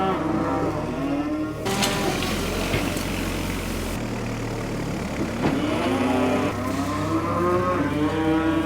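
Cattle on a farm yard being readied before calving give repeated loud, drawn-out moos, several overlapping calls close by, with a low engine rumble running underneath throughout.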